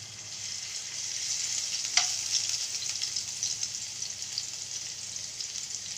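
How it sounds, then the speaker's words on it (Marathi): Garlic sizzles in hot oil in a pan, a close, steady crackling fry with a brief splash as it goes in and continuous bubbling after. "आपलं तेल गरम झालेलं आहे आपण त्यामध्ये आहे ना लसण सोडू आपण"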